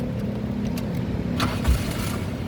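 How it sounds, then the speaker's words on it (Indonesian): A 2002 Daihatsu Taruna 1.6 FX manual being cranked, a short low mechanical burst near the end over a steady idle-like rumble, close and unaccompanied by talk. "ini kita coba nyalakan mobil ya"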